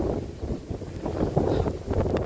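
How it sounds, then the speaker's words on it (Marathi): Wind blows on a hillside trek route, a low, fluttering rush that buffets the microphone in uneven gusts throughout. "आता वारा देखील बघा आणि वाऱ्याचा आवाज ऐका तुम्ही आता मित्रांनो"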